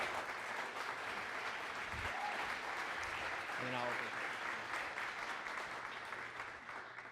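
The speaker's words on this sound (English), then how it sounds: "can we give her applause?" A conference audience at a NASA talks session applauds for a speaker, with a steady wash of clapping lasting several seconds that fades slightly toward the end. A voice speaks briefly over it.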